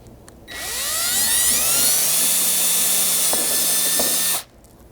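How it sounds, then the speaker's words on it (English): A power drill bores back through the front side of a MOLLE panel for a 200 Series rear window, whining loudly and steadily for about four seconds after a rising spin-up, then stopping abruptly. "Now drilling back through the front side"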